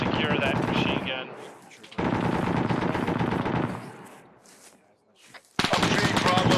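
Machine gun fire rattles in dense, loud automatic bursts in the ArmA 3 video game, separated by short gaps, with voices speaking over the firing.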